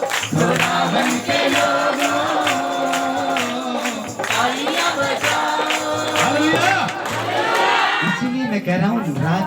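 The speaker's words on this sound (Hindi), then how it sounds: "खुदावन के लोगों, तालियां बजाओ।" A worshipping congregation claps and cheers along with loud music and singing voices, a busy, continuous wall of sound with shouts rising over the rhythm.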